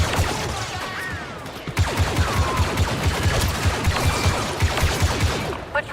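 Sustained gunfire in a Star Wars real-time strategy game as troops open fire on a patrol, a steady stream of rapid blaster-like shots pulsing evenly over a rumbling battle backdrop, loud and continuous.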